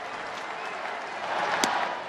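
A baseball stadium crowd of 40,000 at a Dodgers game in the ninth inning, a broad wash of cheering and applause with a brief sharp peak late on and a voice faintly over it.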